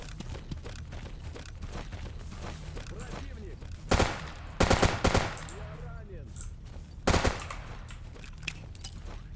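Bursts of automatic AK rifle fire in the video game Escape From Pripyat ring out in three loud volleys of rapid shots over a steady background drone, with faint voices mixed in.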